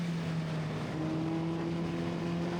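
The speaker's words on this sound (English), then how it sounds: "And you hear the engine revving up to about 5 or 6k there." Formula Vee race car engine at Anglesey circuit revving up to around 5 or 6k rpm while accelerating out of a corner, a steady buzzing drone with a rising tone, heard continuously from onboard with no talk.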